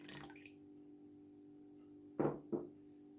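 Milk poured into a well of flour for pizza dough gives two short, soft liquid splashes close together near the end, over a quiet steady background hum.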